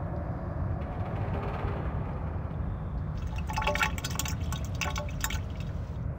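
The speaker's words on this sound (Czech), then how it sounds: "Olejničku jsem naplnil olejem." An oil can is filled with oil in a point-and-click video game, heard as a steady liquid pour and fill over a low rumbling background, with bright dripping, trickling detail joining in the second half.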